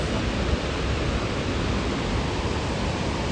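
Steady, dense roar of a waterfall at Male Mahadeshwara Hills, a continuous broadband rush of falling water, loud and close with no voices.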